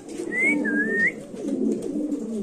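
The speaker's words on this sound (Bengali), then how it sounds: "তো দর্শক এখানে আছে এক পেয়ার কবুতর ভাই, এগুলো হচ্ছে 5 পরের বাচ্চা।" A pair of young pigeons for sale at a pigeon market gives soft, low cooing, with a brief high whistle early on, over a close, steady murmur.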